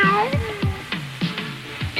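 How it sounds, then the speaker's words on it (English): A novelty cat song on a Philadelphia AM radio broadcast, where repeated sung meows rise and fall in a rhythmic pattern over a faint musical backing. "What do we call it, the cat song?"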